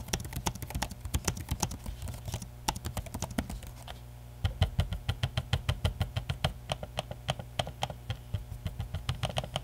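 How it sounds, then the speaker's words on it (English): Typing on the keyboard and trackpad of a Lenovo Legion 5 Pro laptop, a close run of crisp, rapid key clicks and taps with a brief pause partway, no talking. "here's a good sample of the audio of the trackpad and the keyboard deck"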